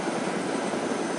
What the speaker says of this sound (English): This is amazing, flying over DayZ with a stolen helicopter.